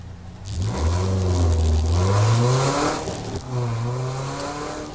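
Race car pulling out of the pit lane at Brands Hatch during a Trackday Trophy race, engine note rising steeply as it accelerates, then dropping briefly on a gear change before climbing again, loud and close with no talk.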